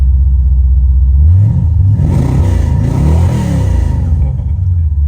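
A Chevrolet C4 Corvette V8 engine revs up to about 4,000 RPM, a loud, close, steady rumbling roar that swells and holds with a rising and falling engine note throughout.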